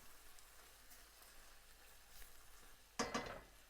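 Peppers fry with garlic in a pan, a faint, low sizzle that runs quietly until a short burst of scraping and clattering as they are stirred near the end.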